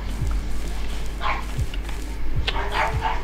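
A dog in a Minecraft-style game gives several short barks and yips at spaced intervals over a low steady hum.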